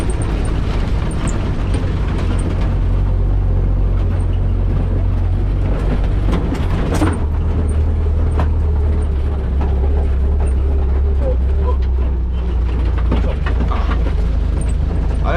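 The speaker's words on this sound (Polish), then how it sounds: "I gaz w gazie, jadący terenem na pełnym gazie, daje kupę frajdy." A GAZ 69M (UAZ) off-road vehicle at full throttle over rough terrain, with a steady loud low engine roar plus constant rattling and clattering of the body, close and unbroken throughout.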